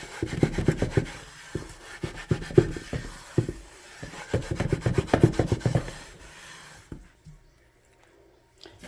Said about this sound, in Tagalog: Naglagay tayo ng konti habang kinukuskus.